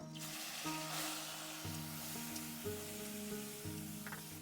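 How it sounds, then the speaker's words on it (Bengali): Loitta fish coated in turmeric and salt fries in hot oil in a wok, giving a steady soft sizzle under stepped background music. "হয়ে গেছে মাখা, কড়াইতে দিয়ে দিচ্ছি, তেল গরম হয়ে গেছে।"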